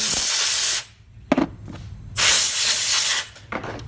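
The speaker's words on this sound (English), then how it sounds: "just make sure you blow it off with some air. That's the noise that you're hearing." Bursts of compressed air blowing off a model hiss loudly in short blasts, two long sprays with brief quieter gaps and a quick puff between them.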